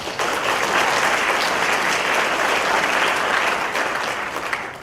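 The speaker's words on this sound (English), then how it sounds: "So, round of applause for them as well." Sustained audience applause at a federal election candidates' debate in a theatre in Terrace, a dense, loud wash of clapping that holds steady for several seconds before tapering slightly.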